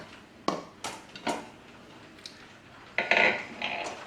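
A cooking pot is handled in a home kitchen while spinach soup with coconut milk is being made. A few sharp metallic clanks and knocks come close by, with a busier rattle near the end.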